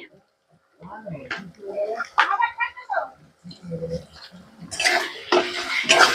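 A spatula scrapes and stirs chilli powder and cumin powder into frying chicken masala in a pan, with clinks and a sizzle that grows louder near the end, while someone talks over it.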